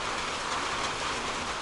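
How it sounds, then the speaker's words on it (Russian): Spring rain falling outdoors in early May, a steady, even hiss of drops heard alone and continuously throughout. "На дворе весна, поэтому и дождь."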